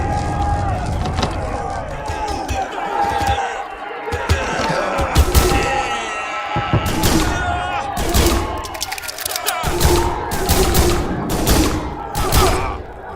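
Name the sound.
gunshots in the Prison Simulator video game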